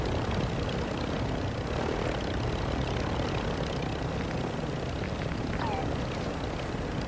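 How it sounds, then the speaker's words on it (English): A helicopter in a video game gives off a continuous dense rotor and engine roar at an even level throughout, with no clear breaks. "I need to get the heli."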